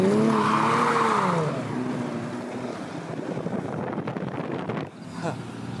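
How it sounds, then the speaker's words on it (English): A 2023 Nissan Z peeling out of a gas station, its engine rising and falling in pitch before a rough, sustained roar of tire noise, with a brief drop and pickup near the end. "I'll peel out of this gas station after."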